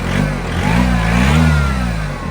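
A diesel car engine, in what appears to be a Mitsubishi Lancer X, revs up loudly, a deep throbbing roar that rises and falls across a couple of seconds, close by.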